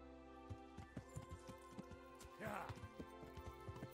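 Horse hooves clip-clop while riding into a medieval village in the video game Kingdom Come, an irregular run of thuds under game music with a busier patch midway.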